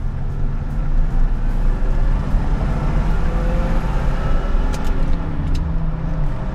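A 1981 Corvette engine revving up toward 5,000 RPM, a steady loud close-up rumble that holds strong and smooth throughout, with no talk.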